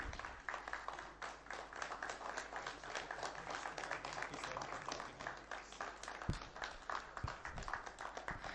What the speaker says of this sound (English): A huge round of applause for the opening